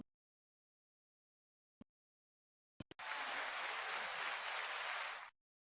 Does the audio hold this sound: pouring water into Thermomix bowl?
no